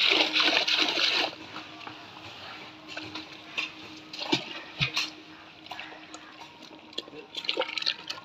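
Water is tossed out by hand while hook fishing at a village pond, making a loud rushing pour at first and then scattered splashes and drips nearby, with faint voices in the background.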